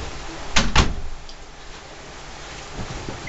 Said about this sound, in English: the cat opened the door